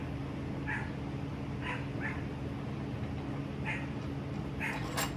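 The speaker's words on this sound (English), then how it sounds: "normally she doesn't bark like this" A female dog barks in a driveway, giving several short, faint yips at uneven intervals over a steady low hum.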